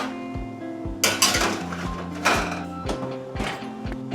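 A metal baking tray of hardtack slides into an oven set to 350, giving several close clanks and scraping clatters of metal against the rack, with a few soft thunks between.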